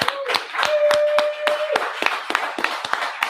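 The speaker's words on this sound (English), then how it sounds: "Round of applause for Grid for hosting." Irregular clapping from a few people in a small group honouring the host of an online debate stream, close and fairly loud, with a sustained tone and some voices mixed in.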